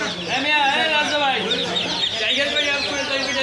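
Native chickens at a busy rural livestock and poultry market cluck and squawk continuously and loudly up close, many birds overlapping in a dense chorus with voices talking around them.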